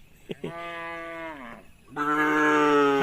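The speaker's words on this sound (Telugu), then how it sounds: "అంబా అంబా అని అంటుంది అది ఆవు" Two loud, drawn-out cow moos close by, the first low and steady, the second starting after a short pause and rising in strength.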